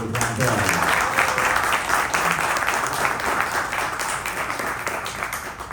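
Outdoor crowd applause for Rahim Shah at a meet-and-greet, steady and fairly loud clapping throughout with voices mixed in.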